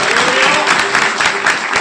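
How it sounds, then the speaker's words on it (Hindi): A church congregation claps together for the Lord, dense rhythmic applause from many hands, loud and near, brief and steady. "आइए ताली मारेंगे प्रभु के लिए."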